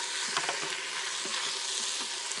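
Chili beans with ground black pepper sizzle and bubble steadily in a Power Pressure Cooker XL while being stirred, a continuous close hiss with faint scraping.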